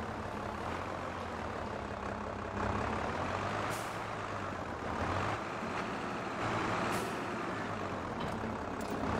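A truck hitching up a trailer for rapeseed in the farming video game Landwirtschafts-Simulator 22, a steady engine drone with hissing air-brake bursts, continuous and moderately loud, no talking.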